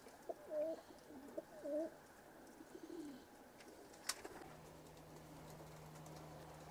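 Egyptian mail pigeons, yellow and red birds with fairly long tails, give a couple of soft coos early on, followed by a brief sharp click and a low steady hum in a quiet room.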